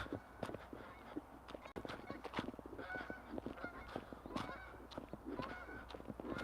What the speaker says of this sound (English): That's a pretty big goose, I'll tell you that.